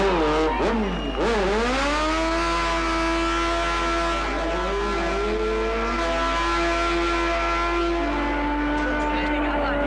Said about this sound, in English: The tyres smoke, the wheels spin, the gear changing.